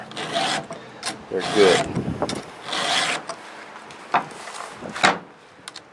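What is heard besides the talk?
hand file sharpening chainsaw teeth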